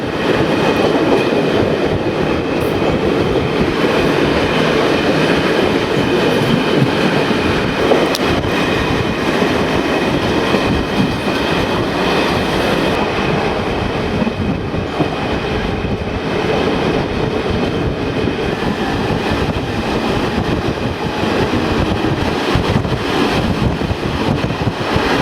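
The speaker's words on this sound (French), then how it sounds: "Nous roulons sur une voie unique électrifiée." An electric train rumbles steadily along a single electrified track near Sisak, Croatia, for the whole stretch, with wind buffeting the microphone and occasional rhythmic clacking.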